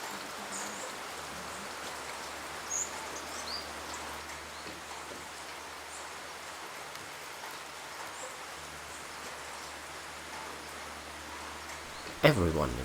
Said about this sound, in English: To the noises of creeks and waterfalls comes the sound of the rain.